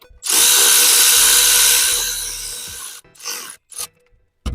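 Valve cover bolts on a 2018 Ford Escape 2.5L engine are snugged with a power tool, heard as a close, loud whirring burst of a few seconds followed by short, quick spurts.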